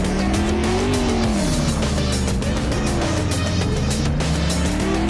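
Car driving in the zombie video game Clutch, with a loud, continuous engine drone and a wavering tire squeal rising and falling across the whole stretch, no voices.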